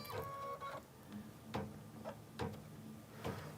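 Kimberbell embroidery machine stitching a quilt block with anemone flower designs for a mystery wallflower quilt, a steady mechanical whir broken by sharp rhythmic clacks roughly every second, close and fairly quiet with no talking.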